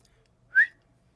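A single short whistle from a person, one brief rising tone, clear and close against near silence.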